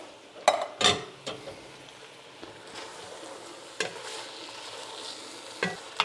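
Sloppy joe meat with a full can of tomato sauce being stirred and worked around in a pan, a soft continuous sizzle broken by a few sharp scraping strokes near the start and later ones, close and fairly quiet, with no talking.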